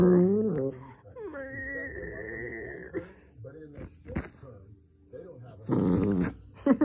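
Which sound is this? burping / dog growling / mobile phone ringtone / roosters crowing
dog growling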